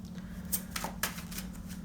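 A deck of tarot cards is shuffled close up, a few quick papery riffles and flicks over a faint steady hum, quiet and intimate.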